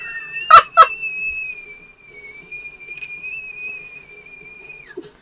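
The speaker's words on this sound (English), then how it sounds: "Teapot noises!" A whistling teapot sounds a steady, sustained high tone for about four seconds before cutting off, with two brief clattering bursts near the start and no talking.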